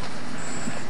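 Short pulses of a firefighting fog nozzle water stream during interior attack training, heard as a steady broadband spray hiss lasting under a second with no clear gaps.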